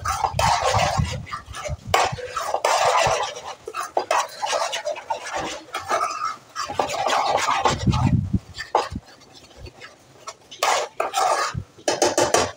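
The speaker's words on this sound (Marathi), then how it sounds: "हे सगळं ते बेसन शिजेस्तोवर ना व्यवस्थित आपल्याला हलवत राहायचं आहे" Besan batter is stirred in a pan over a medium flame, with a spoon scraping and clinking against the metal in irregular close bursts, broken by short pauses.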